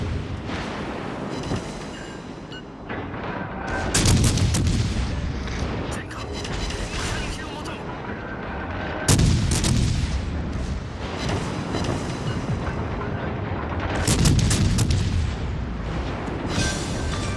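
Naval gunfire from high-caliber guns in World of Warships Legends, with the cruiser München firing. Several heavy booming salvos land a few seconds apart over constant battle noise, with occasional voices talking over them.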